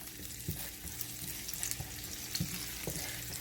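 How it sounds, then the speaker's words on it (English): Onions sauteing in a pan for a vegetarian dish, a steady close sizzle with a few soft stirring knocks. "I'm gonna saute my onions"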